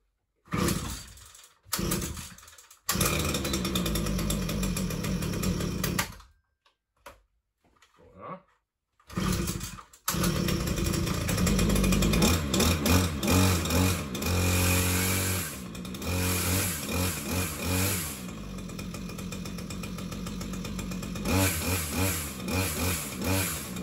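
A Husqvarna 535 FB brushcutter fitted with chain and bar, started after a few pulls, then running with a loud two-stroke roar, revving up and settling to idle, close by with no voices.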